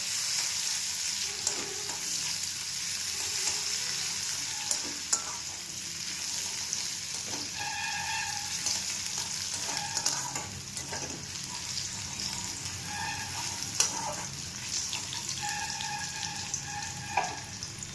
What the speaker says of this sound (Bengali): হালকা আঁচে পেঁয়াজটি ভাজবো যাতে পেঁয়াজটি পুড়ে না যায়।